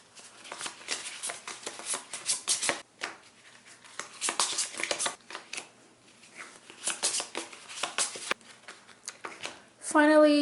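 Hands shuffling a small deck of cards for the Descent board game, in repeated riffling bursts with brief pauses between, close and crisp, ending with a short spoken comment.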